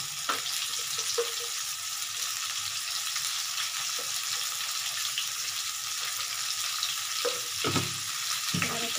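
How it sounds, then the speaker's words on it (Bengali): Potatoes and pumpkin fry in a pan for a tangra fish curry, giving a broad steady hiss with occasional soft clunks of stirring, close and continuous with no talk. "আচ্ছা, আলু আর কুমড়োগুলো আমি এখন দিয়ে দিচ্ছি।"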